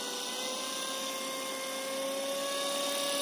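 An electric bike motor spins at high RPM under a speed controller, giving a steady, close, high-pitched whine with a sustained tonal hum that holds level and grows slightly louder, with no voices.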